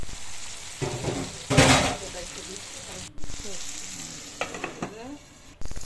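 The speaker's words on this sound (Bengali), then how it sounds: "তাতে দিয়ে দিব টমেটো দিয়ে কিছুক্ষণ নাড়াচাড়া করে" Tomatoes sizzle and fry in a pan for a Bengali fish curry, with bursts of stirring and scraping that rise and fall over the steady crackle.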